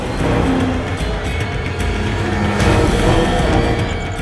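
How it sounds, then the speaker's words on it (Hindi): A car speeds off with its engine roaring loud and steady the whole time, a dense, unbroken motor rush with no voices over it. "ड्राइवर, गाड़ी भगाओ।"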